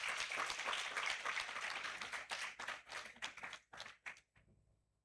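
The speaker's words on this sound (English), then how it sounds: "let's give them a round of applause" An audience at a Falling Walls Lab event in Yogyakarta, Indonesia applauds, starting as dense clapping and then breaking up into separate claps that fade out.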